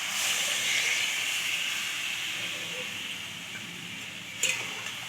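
Soaked jaggery hitting a pan of cooking jujube pickle sets off a loud, steady, hissing sizzle that slowly eases, with a small clink near the end.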